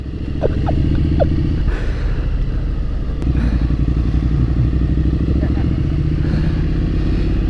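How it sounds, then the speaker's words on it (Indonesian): A Triumph Street Scrambler 900 motorcycle engine idles close by with a steady, throbbing rumble; faint voices murmur under the engine noise. "motor Triumph Street Scrambler ini adalah motor buatan Inggris pastinya"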